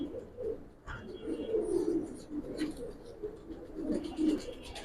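Giribaj pigeons in a loft coo continuously in low, soft, overlapping rolls, several birds close by, with faint rustling and a brief knock near the start.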